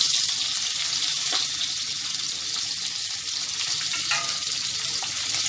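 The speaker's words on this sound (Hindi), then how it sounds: "और अब हम इसमें डालेंगे प्याज" Onions sizzle and crackle steadily in hot oil in a kadhai, a close, continuous frying hiss with occasional pops and no talking.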